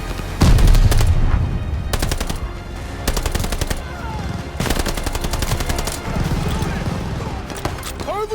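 Machine gun fire in Call of Duty Vanguard, set in June 1944 during Operation Tonga: loud, rapid bursts that stop and start several times, with bangs and battlefield noise filling the gaps between them.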